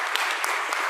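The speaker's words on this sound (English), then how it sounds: "let's offer a round of applause for Chairman Thomas here, our first moderator" Audience at a public meeting applauds, a brisk spread of hand claps with a few sharper individual claps standing out, fairly close and steady.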